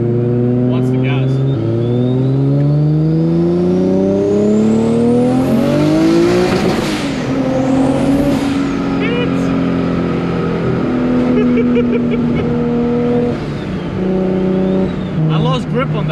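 A tuned Nissan GTR R34 making 700 all-wheel horsepower revs hard through the gears toward the red line, engine pitch climbing in repeated sweeps with a shrill whine and squeal, loud and close, while people talk over it.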